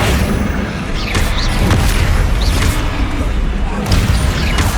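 Confringo blasting spells explode repeatedly in the Hogwarts Legacy wizarding game, sounding as several loud booming blasts over busy combat noise, with a voice talking.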